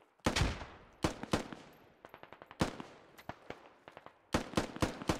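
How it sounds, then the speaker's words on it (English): Rapid gunfire in the video game Squad, as bursts of automatic shots aimed at building windows crack close by in clusters, separated by short gaps and a few single shots. "They are shooting the windows."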